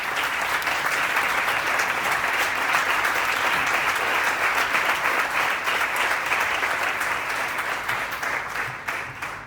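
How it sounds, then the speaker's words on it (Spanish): An audience at a nature conservation awards ceremony breaks into sustained applause, a dense, loud wash of many hands clapping that holds steady and then begins to fade near the end. "Un aplauso, por favor."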